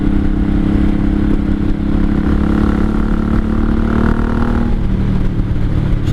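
A 1983 Honda Shadow VT750C motorcycle on a test ride, a loud steady low engine drone with rumbling exhaust, wind and road noise throughout, a brief lift in revs near the middle, no voices.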